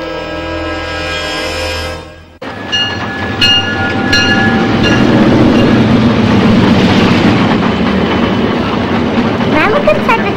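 A passenger train pulls out of a station, its rumble and clatter building and holding steady after an earlier sustained horn-like tone cuts off. Faint voices may sit under the noise.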